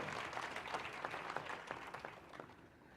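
Applause from a quiz-final audience, a faint, distant patter of many hands clapping that fades slightly toward the end, with no talk over it.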